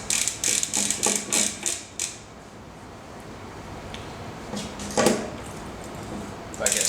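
Lock ring being tightened onto a bike cassette on a Hope Pro II rear hub: a quick run of close ratcheting clicks, then quieter handling and a couple of later clicks.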